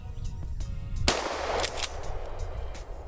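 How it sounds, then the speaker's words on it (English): A Safety Harbor Firearms KEG410 .410 shotgun fires one loud, sharp shot outdoors; the blast's echo and rumble fade slowly over the next couple of seconds. "So we're gonna fire a couple more rounds off here and close this video out."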